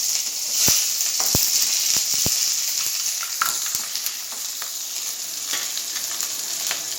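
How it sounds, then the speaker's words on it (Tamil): Onions sautéing in hot groundnut oil with cinnamon and cloves, a steady close sizzle throughout with a few sharp crackles and pops, no voices. "வதங்கிட்டு இருக்கு வெங்காயம்"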